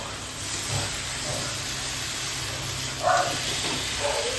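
Chopped tomato hits hot fried onion and garlic in a pan for a taro and potato curry, giving a steady sizzling hiss with a couple of brief louder spits.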